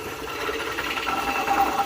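Valves being lapped on a tractor engine in a workshop, giving a steady, fairly quiet whirring and grinding texture with a faint high tone, continuous throughout with no talk.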